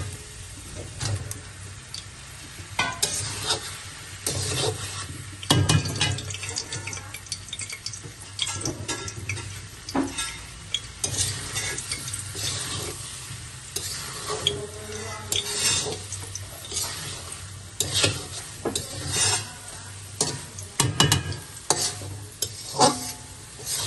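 Shrimp being sautéed with browned fried onions in a pan, a steady close sizzle broken by repeated scraping and stirring strokes, with no talking.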